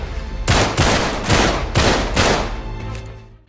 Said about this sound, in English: The feel of the gunplay is better than ever, largely due to how loud the gunshots are and the sound mixing.